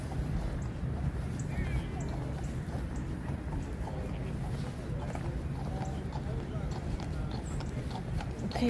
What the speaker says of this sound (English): Oh, the horse made a sound.